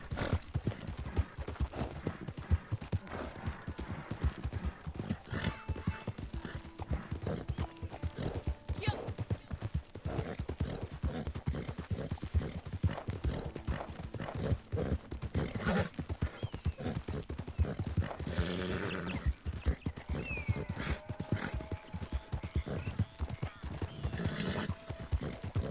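Horse hooves clip-clop continuously in the video game Red Dead Redemption 2, a fast, even rhythm of close hoof strikes running throughout, with the horse's gear and occasional bursts of other game sounds mixed in.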